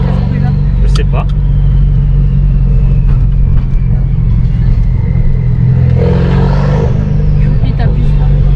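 A car engine, a Mazda fitted with a newly replaced exhaust line, rumbles loudly and steadily at close range, rising briefly near the end as if revved, with people talking over it.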